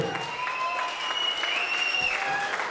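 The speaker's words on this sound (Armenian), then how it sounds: "առաջարկում եմ այս պահին բոլորս միասին բարձր ծափարենք" Wedding guests applaud together in an indoor hall, a steady dense clapping that fills the moment without a break, with no talk heard.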